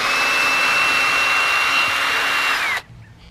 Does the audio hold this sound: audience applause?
no